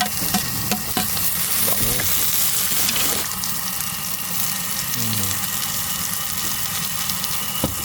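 Garlic, onion, ginger and chili frying in a pan, a dense loud sizzle with clattering stirring and scraping of a utensil, a few sharp knocks, and faint background voices.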